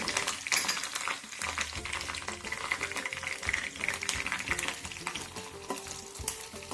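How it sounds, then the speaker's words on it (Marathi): Curry leaves, green chili and garlic frying in oil in a small wok, a dense crackling sizzle with spattering pops and occasional stirring scrapes, steady and close throughout. "एक दोन ते तीन मिनटे आपण याला तळून घेणार आहोत"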